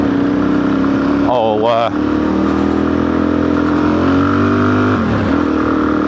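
An adventure motorcycle on dirt tyres is ridden with its engine running loud and steady, a quick rising rev burst early on and a shorter one later, while a rider talks over the engine.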